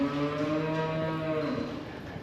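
A cow in a barn holding dry cows and heifers lets out one long, loud, close moo with a wavering pitch that fades toward the end.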